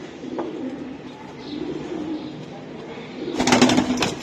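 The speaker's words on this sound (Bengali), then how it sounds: "কবুতর গুলা সেই রকম একটা কবুতর" Giribaz high-flying pigeons coo in soft, repeated low calls, with a brief louder burst of cooing and fluttering near the end.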